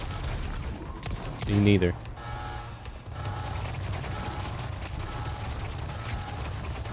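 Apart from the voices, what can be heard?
turret gunfire in video game Resident Evil 4 remake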